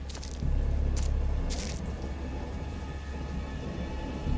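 A thunderstorm in the horror game Dagon, with steady heavy rain hissing and a low continuous rumble of thunder, loud and close, with a few sharper crackles early on and no voices.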